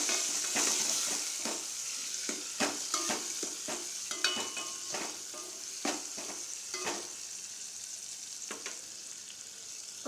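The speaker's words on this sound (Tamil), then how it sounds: "நல்லா வெங்காயம் தக்காளி வணங்கட்டும்." Chopped onion and tomato sauté with curry leaves and coriander leaves for a drumstick tamarind curry, a soft continuous sizzle punctuated by repeated spatula scrapes and stirs against the pan.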